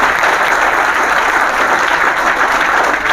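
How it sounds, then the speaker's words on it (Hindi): Steady, dense applause from a large seminar audience, loud and continuous throughout with no pauses. "जोरदार तालियों से एक बार स्वागत करा जाए आप सभी का"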